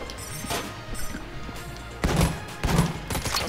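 A pulse cannon fires in Enter the Gungeon, two or three loud punchy bursts in the second half of the clip, with a few fainter thuds and game noise before them.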